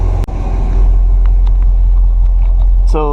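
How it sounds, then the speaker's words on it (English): A C6 Corvette engine idles at operating temperature, a steady low rumble held close throughout, with a brief click near the start and a short rising tone at the end. "Let the car run for about 10 minutes at temperature"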